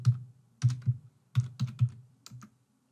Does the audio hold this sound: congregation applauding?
no